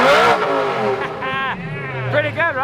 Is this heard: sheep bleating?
no